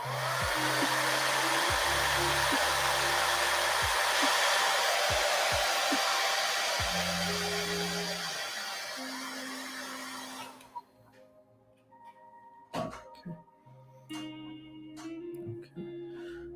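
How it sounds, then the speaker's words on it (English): A hair dryer drying paint blows steadily and loudly for about ten seconds, then switches off, leaving faint clicks and low background hum. "Let me dry that with the hairdryer too."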